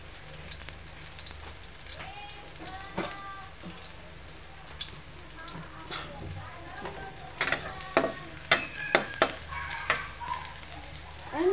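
Garlic sautéing in a hot pan for pancit, a soft steady sizzle with scattered crackles and stirring scrapes growing busier toward the end, close up.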